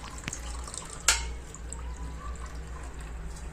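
Water from washed rice dripping and trickling close by, with one sharp drop standing out among soft, irregular splashes.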